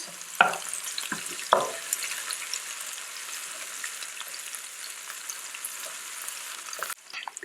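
Onions and hot pepper frying in a pan give a steady, moderate sizzle with two sharper stirring clatters near the start and a brief knock at the end, and no voices.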